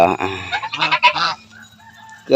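Loud, harsh honking calls from ducks, a burst of several nasal cries close by, then a brief quieter pause before another call.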